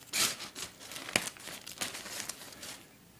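A strip of duct tape is cut with a small Leatherman Micra multi-tool, giving a quiet, close crinkling and tearing sound in a few short bursts, with no voices.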